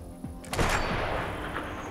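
A single sharp sniper rifle shot cracks out and booms in a war zone, its echo rolling away over low background hum; no voices.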